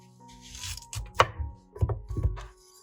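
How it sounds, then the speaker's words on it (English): A knife chops through onions on a cutting board, giving a few separate dull thunks spaced unevenly over a couple of seconds, close and fairly quiet with no voices. "Chop them according to your cooking needs."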